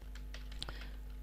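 Quick, light taps on a computer keyboard, a short irregular burst of keystrokes close by over a low steady hum, with no talk.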